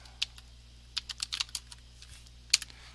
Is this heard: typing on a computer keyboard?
yes